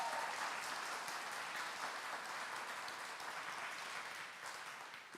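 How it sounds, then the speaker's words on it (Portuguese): A church congregation applauds loudly and steadily during a worship service, a dense continuous wash of clapping that holds for the whole stretch and fades slightly at the end. "Aplaude com força."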